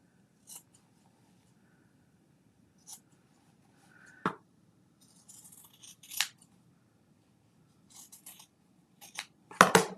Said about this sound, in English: then I just trim up the sides a little bit so I don't have a whole bunch of fabric